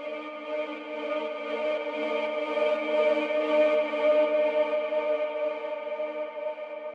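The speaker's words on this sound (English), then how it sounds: "Cutting out some frequencies with the EQ and adding another big reverb on the end." Organic house sound layer ducked by an LFO tool, shaped with EQ cutting some frequencies, and drenched in a big reverb; a sustained, harmonically rich tone swells and pulses steadily for several seconds, moderately loud and alone, with no talk.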